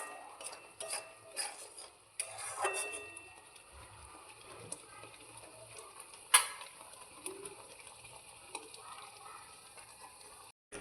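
A spoon stirs a simmering curry with green chilies in a pan, giving soft, faint scraping and bubbling with a few louder strokes and one sharp clack partway through.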